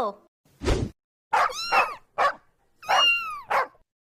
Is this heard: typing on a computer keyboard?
no